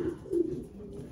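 A large, powerful young pigeon being vaccinated, giving two or three low, soft coos close by in quick succession.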